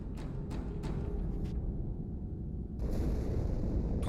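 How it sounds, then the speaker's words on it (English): Halo 2 game explosion sounds, a deep rumbling roar with a few sharp blasts early on, then a broad loud surge of debris-like noise toward the end, with no talk. "Die Explosion kam aus dem Innern der Athen, genau wie bei der Malta."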